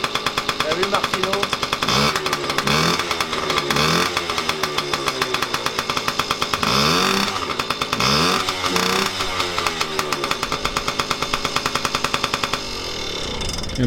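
A cold Piwi 50 minibike engine runs at close range, its rapid, uneven putter misfiring slightly and surging in pitch through repeated revs for the whole stretch, with voices talking over it.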